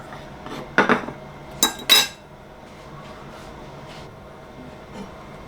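A plate is set down on a kitchen counter after the garlic crusher is scraped, giving a few sharp clinks and clatters close by, followed by quiet.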